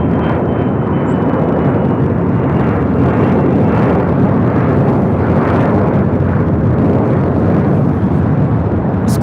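A Global 6000 business jet takes off at LAX, a loud, continuous broadband engine roar that holds steady and close for the whole stretch, with no voices over it.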